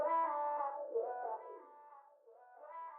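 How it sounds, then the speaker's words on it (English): A synthetic, robotic-sounding vocoder melody for an R&B sample, with a buzzy harmonic tone gliding between notes, played alone without any voices. "So I would put on the vocoder thing."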